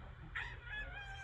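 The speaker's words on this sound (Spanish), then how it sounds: "¿Es el gallo?" A rooster crows from a played-back video, a single bright call rising and trailing off over low background rumble, heard at moderate loudness with no talk over it.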